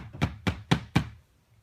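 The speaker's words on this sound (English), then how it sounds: "knock out some of this extra" A glass-powder sifting screen is knocked four times in an even rhythm, giving close, dull thuds that shake excess powder loose, followed by quiet.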